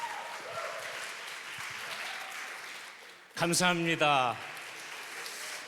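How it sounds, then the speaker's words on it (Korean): A church congregation applauding to welcome a visiting pastor at a Sunday service; a sustained round of clapping fades out, then someone speaks briefly. "큰 환영의 박수로 모시도록 하시겠습니다"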